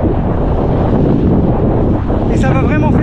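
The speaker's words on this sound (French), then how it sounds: "là le vent s'est bien intensifié. Je l'ai de face et il est assez fort" Strong headwind buffets the microphone of a cyclist riding a gravel loop near Pléhérel Plage in Brittany, a loud, constant roaring rumble with a brief voice-like tone near the end.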